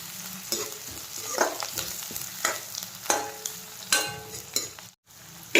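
Vegetables sizzle and fry in leftover fish-frying oil, with repeated stirring scrapes and clatters over a steady crackle, close and moderately loud, ending in a brief silence.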